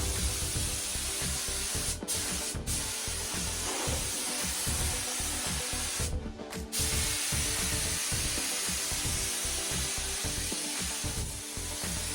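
Spray gun paint hisses steadily onto MGA car body panels in a home garage, a continuous airy spray with brief pauses between passes and an underlying compressor rumble, no voices.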